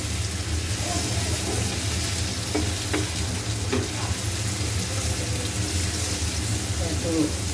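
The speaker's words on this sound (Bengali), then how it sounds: "মাছ বিরানের পেঁয়াজটা অনেকটা সিদ্ধ হয়ে গিয়েছে, একটু কালার চলে এসেছে, তাই টমেটো কুচিগুলো দিয়ে দিলাম।" Chopped tomatoes sizzling in a pan of softened, lightly browned onions for fish biryani, a steady broad frying hiss with faint scraping and clinks, close and moderately loud with no talk.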